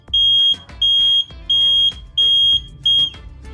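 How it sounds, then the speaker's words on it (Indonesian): A homemade flame detector fire alarm sounds loud, piercing electronic beeps, five long pulses repeating at a steady rhythm, close and alone with no talking. "Jadi ini bisa digunakan sebagai fire alarm ya."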